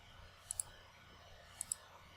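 A computer mouse clicks twice, crisp and close, while moving through the client and recording settings menus of security camera software, with a faint hiss of room noise between the clicks.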